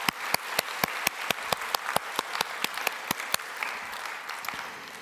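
A church congregation claps through an Easter Sunday worship service, a dense steady wash of applause punctuated by sharp, regular rhythmic claps that sound near and fairly loud, with no talk over it.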